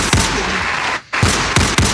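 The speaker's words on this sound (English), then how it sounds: "Just give her a gunshot one time and we moving on." Loud gunshot sound effects, several sharp cracks in quick succession with a brief silent gap in the middle, close and punchy with no talk.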